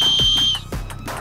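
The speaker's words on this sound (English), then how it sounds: "a safety whistle is cleverly integrated into the chest strap buckle" A safety whistle built into a backpack's chest strap buckle gives one shrill, steady high-pitched blast lasting about half a second, close and loud, followed by faint breathy noise.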